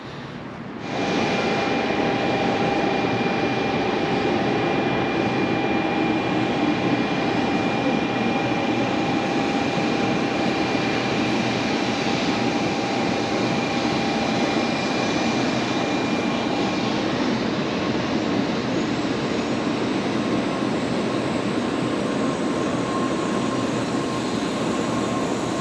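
Loud, continuous roar and rumble of a Shinkansen bullet train arriving at a station platform in Hiroshima, rising suddenly and then sustained with faint steady tones and no talking.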